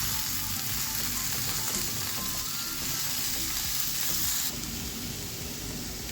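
Cauliflower pieces fry in oil with turmeric and get stirred in the pan, making a steady close sizzle that fills the whole stretch without any speech.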